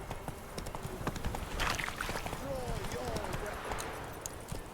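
Roach the horse trots in The Witcher 3, soft rhythmic hoofbeats pattering at moderate distance over a quiet, busy ambient background.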